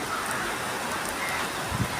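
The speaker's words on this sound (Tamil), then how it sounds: "பாருங்க, அடிச்சு தூக்குது மழை" Heavy rain pouring down outdoors, a dense, steady hiss of downpour filling the whole scene at moderate loudness with no voices.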